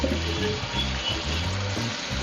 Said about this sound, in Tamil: இப்போ வந்து நம்ம சிக்கன் போட்டுக்கலாம்